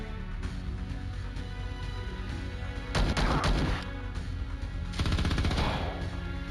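Assault rifle fire from Star Traders: Frontiers rattles out in two loud, close bursts, each about a second long, over a steady game background with no voices.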